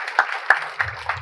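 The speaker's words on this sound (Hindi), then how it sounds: "तो एक बार पूरी टीम के लिए जोर से ताली बजाइए।" An audience claps for a team at a NEET coaching session, the claps landing in a steady, evenly spaced rhythm of sharp, fairly close hand strikes.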